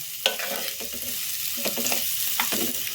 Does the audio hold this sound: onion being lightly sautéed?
yes